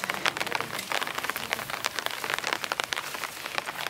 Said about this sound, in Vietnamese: Mưa từ sáng giờ luôn hả chị Sơn Ca?